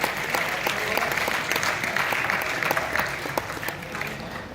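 Audience applause fills a theatre after a drama performer is introduced on stage, a dense, steady clapping from many hands that holds at an even level throughout before easing slightly at the end.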